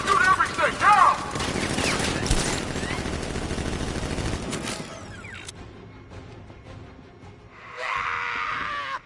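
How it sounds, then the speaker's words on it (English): Guards open fire in Batman: Arkham Knight, a dense, loud barrage of overlapping gunshots for several seconds that thins out, with a brief burst of noise near the end. "Guard! Open fire! Shoot everything!"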